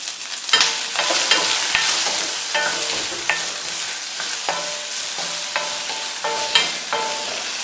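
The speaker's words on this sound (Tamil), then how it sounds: "வெண்டைக்காய் கொஞ்சம் வதங்கட்டும்" Okra (ladies' finger) sautés in a pan with salt, sizzling softly while a utensil stirs and scrapes in repeated sharp clinks and scuffs, close and clear without talk.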